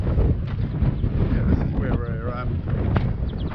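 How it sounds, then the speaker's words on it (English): Heavy wind buffets the microphone in a constant low roar while a person speaks briefly over it. "I apologise for the wind"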